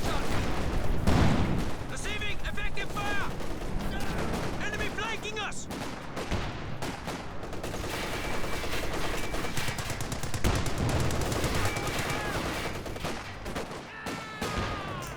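Machine gun fire from a Company of Heroes 2 1v1 match: dense, continuous bursts of automatic gunfire mixed with other battle sounds throughout, loud and close, with voices talking over it.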